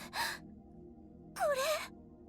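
Two sharp, breathy gasps from a character in the visual novel game Chaos;Child, spaced about a second apart against a faint, steady background hum.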